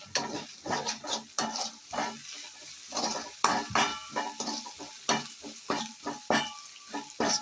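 Pepper chicken stir-frying in a pan, a busy run of scraping spatula strokes over steady sizzling oil, close and fairly loud with no voices.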